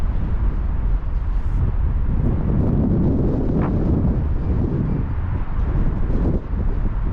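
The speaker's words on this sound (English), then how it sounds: "The wind is strong." Strong coastal wind on the Baku shoreline roars continuously and loudly, buffeting the microphone with a dense low rumble that never lets up.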